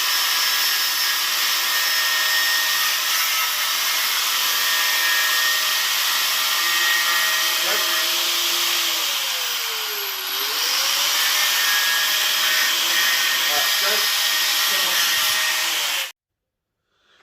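Power tool grinding and cutting through welds on a metal trailer frame, a loud, continuous close-up whine that holds steady with a brief dip in pitch midway before cutting off abruptly.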